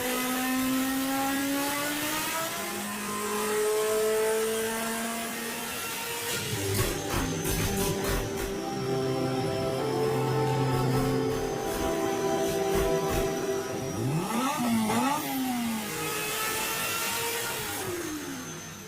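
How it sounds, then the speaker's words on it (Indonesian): A Mitsubishi Lancer Evolution IX JDM car engine roars close and loud, its pitch rising and falling through repeated revs, with a sharp upward sweep near the end. "Yudi menganggap raungan mesin mobilnya sebagai alunan paduan suara yang indah"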